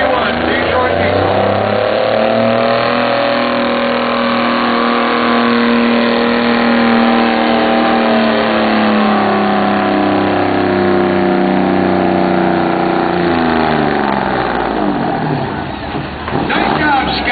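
A 12-cylinder Detroit Diesel 12V71 engine in a truck at a county fair truck pull roars loudly and steadily, its pitch rising and holding under strain before easing off near the end.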